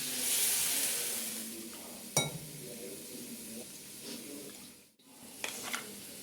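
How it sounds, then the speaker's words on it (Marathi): Tomato puree added to a pan of frying onion masala for garlic methi, sizzling steadily and close, with a sharp clatter of the utensil and a brief hiss as it hits the oil. "तर जाईल टोमॅटोची प्युरी"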